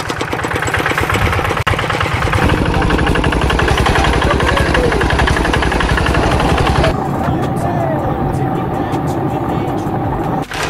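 A motorcycle with a CJDW aftermarket exhaust idles with a loud, rapid, rough pulsing note up close, steady for several seconds before shifting to a smoother tone near the end; voices are heard faintly underneath.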